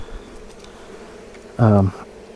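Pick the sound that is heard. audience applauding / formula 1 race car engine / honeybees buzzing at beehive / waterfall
honeybees buzzing at beehive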